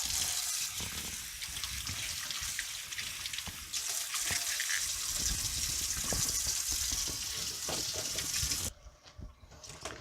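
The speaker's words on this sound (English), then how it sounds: "Wash it first, I guess." A kitchen tap runs steadily while asparagus is washed under it, giving a continuous splashing rush of water with small clatters. The flow cuts off near the end.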